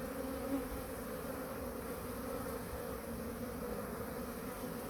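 Honeybees with pollen-laden legs entering the hive, giving a continuous dense buzzing drone at a steady level, with no voices.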